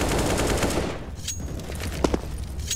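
Rapid automatic gunfire spray in CS:GO on the Vertigo map during a professional esports match, a dense continuous burst of shots dominating the first second, then trailing off into quieter game sounds with a couple of sharp clicks.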